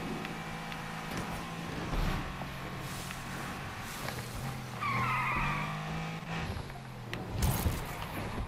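A car in Need for Speed Unbound drifts and skids, its tires squealing in long sliding bursts over the steady drone of the engine, with no talk over it.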